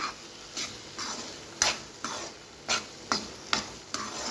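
Bread halwa stirred in a pan with ghee, a regular series of about nine scraping spoon strokes against the pan over a soft sizzle, no voices.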